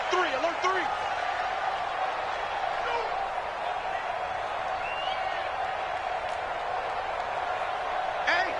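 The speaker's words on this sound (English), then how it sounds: "the crowd getting into it as we come up on a big third down" A stadium crowd in the American football video game Madden 20 roars steadily throughout, a dense continuous din with faint commentary voices mixed in underneath.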